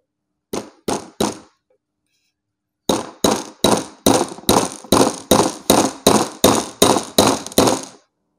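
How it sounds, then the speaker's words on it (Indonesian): A hammer drives a pin into the tube of an Apollo PCP air rifle. Three sharp metallic taps come first, then a pause, then a steady run of about a dozen evenly spaced, loud blows, close up and without speech. "Gampang kalau masukin ini tinggal dipalu aja."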